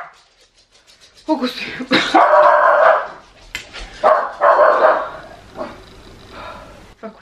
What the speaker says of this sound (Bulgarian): Това куче ще му довърши някой ден.